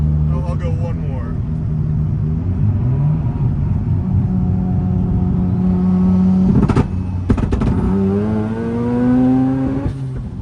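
A rotary-powered Mazda RX7 drones steadily at high revs, its engine pitch sliding up and down as the car loses grip and spins, with a few sharp clunks and people talking in the cabin over the constant engine noise.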